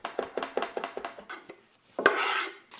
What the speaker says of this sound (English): we're gonna chop up a fistful of parsley